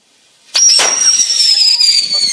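A firework goes off with a sudden sharp burst and a long, loud whistling squeal that rings on afterward, heard close by outdoors.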